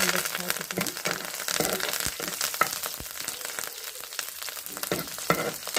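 Curry leaves tossed into hot oil for a ridge gourd peel dish give a steady, close crackling sizzle with sharp pops throughout, mixed with stirring sounds.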